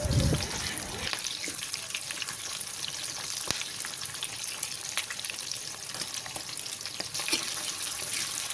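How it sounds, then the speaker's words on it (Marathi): Vertically sliced onions fry in a pan for paneer masala, giving a steady, close sizzle that carries through the whole stretch after a short rustle at the start. "मस्त आपला एक कांदा आता लालसर भाजू द्यायचा मस्त असा."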